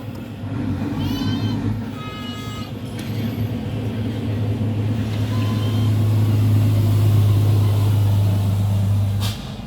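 A 4D56 diesel engine cranks and starts after fuel priming, settling into a loud, steady low idle rumble that continues to the end with a brief click near the finish.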